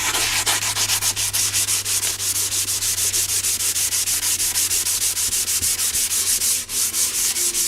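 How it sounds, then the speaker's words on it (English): Steady rhythmic hand sanding of a carbon fiber sport bike windshield, close and loud, with rapid repeated rubbing strokes throughout and no voices. "A lot of detail sanding."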